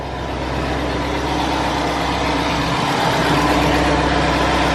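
A Lexus IS F V8 fitted with a new Xforce valved exhaust idles steadily, a loud, close, continuous low rumble with no pauses or revving.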